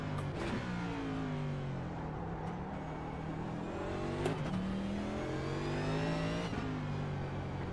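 A NASCAR Cup Series car engine in iRacing at the Long Beach road course repeatedly revs and drops through gears, pitch sweeping down with sharp shift blips, steady and fairly close, with no talking.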